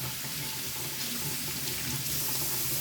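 Tap water runs over potatoes being rinsed in a kitchen sink, a steady, close, continuous splashing stream with no voices.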